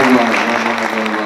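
Audience clapping for a poet's birthday at a Hindi poetry gathering, a dense, steady wash of applause that stays fairly loud throughout the short moment.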